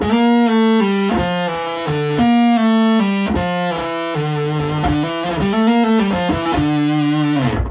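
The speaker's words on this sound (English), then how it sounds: "I'm doing pull-offs, right? I'm playing 3 pitches on each string, but I'm only plucking once" Electric guitar through Big Fat Tube fuzz distortion, playing quick descending pull-off runs of three notes per string from a single pluck, each note sustaining evenly and clearly, loud and close with no talking.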